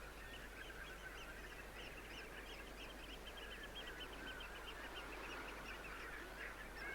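A large flock of waders and water birds on the Essex mudflats at Foulness calls continuously, with many overlapping honking and piping cries from a distance over a low steady rumble of wind.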